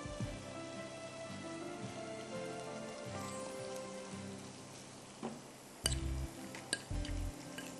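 Chicken with ginger and garlic sautéing in cooking oil gives a steady, even sizzling hiss throughout, with a few sharp clinks of a utensil or pot lid near the end. Nobody speaks.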